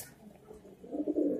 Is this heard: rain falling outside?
no